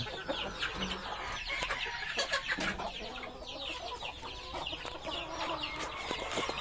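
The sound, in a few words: breeder hens clucking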